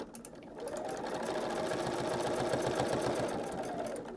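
A sewing machine runs steadily, stitching binding onto a quilt at a mitered corner. The motor hums in an even, rapid rhythm that starts up and holds close and clear, with no talking.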